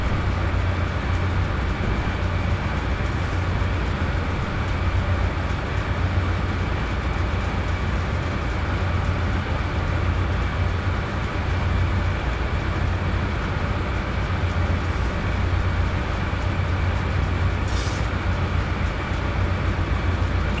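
Steady low rumble of a train rolling along the rails in the Open Rails simulator, braking with pneumatic brakes near a tunnel, continuous and even throughout with no voices, a few faint high squeaks now and then.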